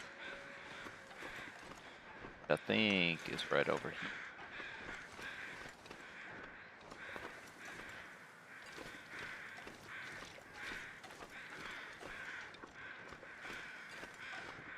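Crows caw in a short, loud burst of harsh calls against a hushed windy ambience in the survival video game The Long Dark, while a person talks briefly.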